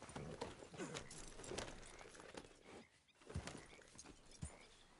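Horse hooves clip-clop in Red Dead Redemption 2, a faint uneven patter of steps with a few louder thuds, set against soft outdoor ambience with no talk.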